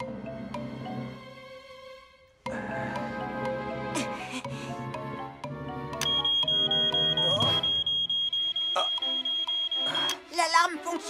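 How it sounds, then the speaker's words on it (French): Smoke alarm in the Fireman Sam cartoon, a steady high electronic tone held for several seconds over cartoon music and sound effects, loud and close. "L'alarme fonctionne très bien"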